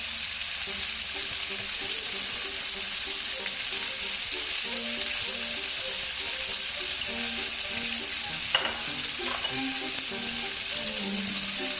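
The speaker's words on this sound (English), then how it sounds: "Come back and do the other side of peppers while it's in the pan." Bell peppers fry in a hot pan with a loud, continuous sizzle and crackle, plus a brief scrape of movement near the end. No one speaks over it.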